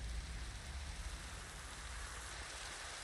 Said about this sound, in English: Oh yes, it's raining in the end.